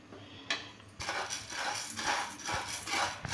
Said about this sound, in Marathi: आता यात आपण हे उडीद खमंग भाजून घ्यायचे।